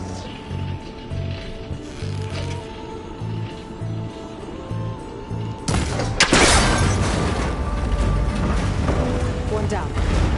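A loud crack and heavy metallic rumble as a cable connector breaks under fire in Horizon Forbidden West, following a repeated mechanical clicking rhythm and lingering as a noisy wash of debris and machinery.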